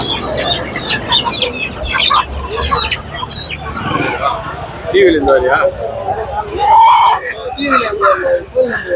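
Chickens cluck and a rooster calls amid a busy crowd at a weekly market in Ranipet, India, with people talking nearby throughout.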